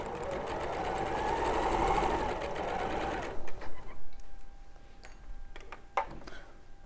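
A sewing machine runs steadily, stitching a seam on a bag for about three seconds, then stops, leaving a few soft clicks and handling sounds.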